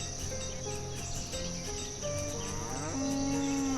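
Cows moo in the Banished village-building game, several drawn-out lowing calls overlapping at different pitches over a constant chirping of crickets, with no talk.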